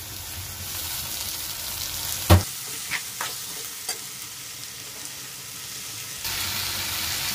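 Tomatoes hit a pan of ginger garlic for a squid gravy, with a sharp clack as they go in, then a low sizzle and a few scraping stirs close by.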